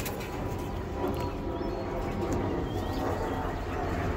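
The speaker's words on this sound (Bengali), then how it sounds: "এটি হলো বাঘা সবুজ গলা কবুতর" Cooing of a Bagha green-necked pigeon, a flying breed of domestic pigeon, low and steady against dense background noise and clutter throughout, with no clear individual calls standing out.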